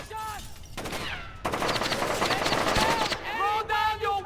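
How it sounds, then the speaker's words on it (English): Automatic gunfire rattles in Splinter Cell: Chaos Theory, the 2005 stealth game. Sustained loud bursts of shots cover the middle of the clip, with game voices calling out before and after them. "He's taking shots!"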